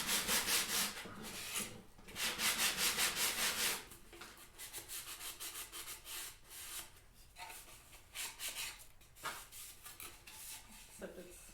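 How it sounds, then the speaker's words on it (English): Wood being scraped to reshape a backsaw handle, with rhythmic rasping strokes in quick repeated bursts, close and fairly quiet, with short pauses between runs. "ASMR wood scraping."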